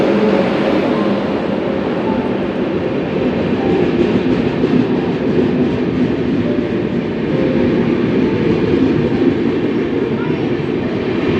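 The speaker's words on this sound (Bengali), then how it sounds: "পুরুলিয়া হাওড়া এক্সপ্রেসটাতে সব ঠেলাঠেলি করে উঠছে, ট্রেন ছাড়বার সময় হয়ে গেছে।" The Purulia-Howrah Express runs at a station as a loud, steady rumble and clatter of rail wagons that holds for the whole stretch, with faint crowd noise underneath.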